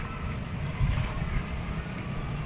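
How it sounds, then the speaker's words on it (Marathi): A cool breeze blowing across a building terrace makes a steady, low, rumbling rush of wind against the microphone, with slight gusts and no voices. "हवा मस्त येते थंडगार हवा येते"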